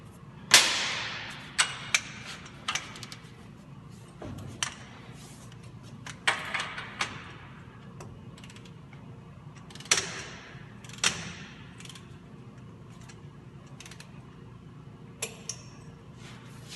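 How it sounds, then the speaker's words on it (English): Torque wrench tightening the lower ball joint nut on a Ford F250/F350 Super Duty 4x4: scattered sharp metallic clicks and clanks, some louder than others, spread irregularly over a quiet garage background. "I'm going to torque the lower ball joint nut."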